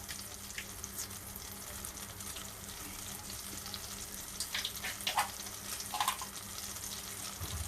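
Butter sizzles and crackles in a pan as it melts, a steady low fry with a few sharper spits and pops toward the end, close and fairly quiet with no talking.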